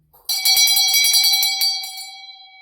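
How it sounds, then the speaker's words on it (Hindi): An electric school bell rings rapidly for about a second and a half, loud and metallic, then cuts off, leaving a lingering ringing tone that fades. "स्कूल की घंटी बजी और सारे बच्चे शोर मचाते हुए अपनी क्लास में चले गए"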